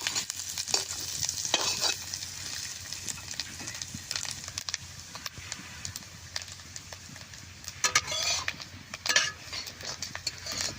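Grated coconut frying in oil in a pan, a steady soft sizzle with scraping stir strokes and occasional utensil clinks, close and moderately quiet throughout.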